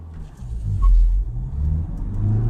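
An MG Hector Facelift 2021 SUV with its engine revved while stationary, traction control off: a low car rumble swells to a loud peak near the mic, dips, then climbs again in a second steadier rise.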